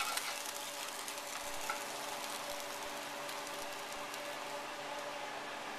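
Calamari flash fries in a hot wok, giving a steady, hissing crackle of oil throughout at a modest level with occasional small pops and stirring sounds.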